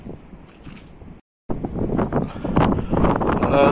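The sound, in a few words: wind blowing over flooded fields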